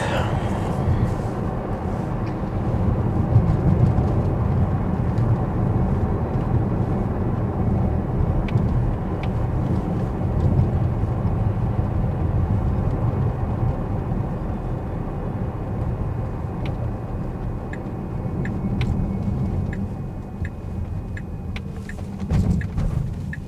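A Tesla Model X Plaid drives along a road, its interior carrying a steady low rumble of tyre and road noise, with a few faint clicks near the end and no spoken words.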